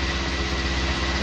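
A tractor engine in Farming Simulator 19 drones loud and steady, a dense low rumble with constant mechanical hum and no change in pitch, with no talking over it.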